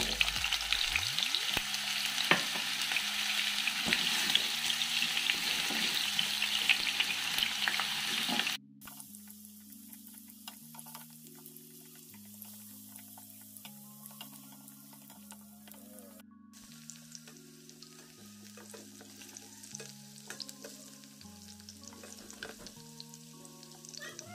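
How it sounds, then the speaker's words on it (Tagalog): Carrots frying in cooking oil in a pan for chicken mechado, a steady close sizzle with occasional stirring, loud at first then quieter, under soft background music. "kailangan natin i-fry muna yung ating gulay para hindi siya malasog o malamog kapag naluto yung ating mechado"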